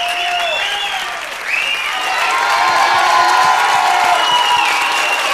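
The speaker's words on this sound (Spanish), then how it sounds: "Manuel se despide con este aplauso de nuestro escenario" A studio audience applauding a contestant leaving the stage, sustained clapping and some cheering that swells slightly after the first second and holds steady, loud and close.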